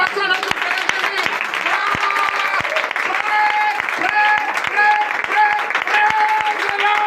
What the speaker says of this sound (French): Donnez de vives acclamations à notre Seigneur Jésus